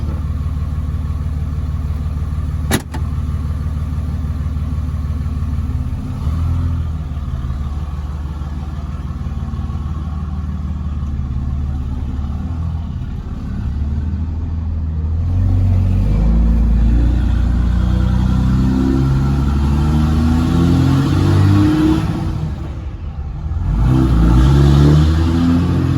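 Cummins diesel truck with an NV5600 manual transmission out on a test drive, its engine droning loud and steady with rising and falling revs through gear changes, a brief click near the start, no talking.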